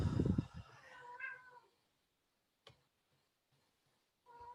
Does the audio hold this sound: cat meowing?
yes